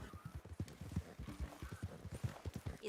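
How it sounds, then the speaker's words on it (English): Horse hooves beat out a quick, steady clip-clop as a carriage is drawn along in a video game, a close rhythmic clatter with no talking. "is this a horse-drawn carriage going?"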